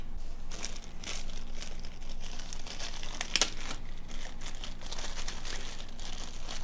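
Plastic protective film on a Samsung 32-inch curved CR50 monitor being handled, a steady close crinkling and rustling throughout with one sharper crackle midway.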